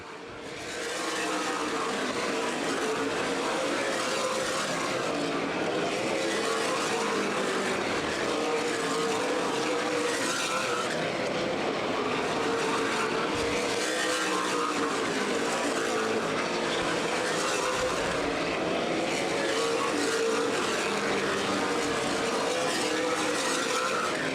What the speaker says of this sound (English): Kyle Busch now taking the lead of the Redbud 300 here on lap 57.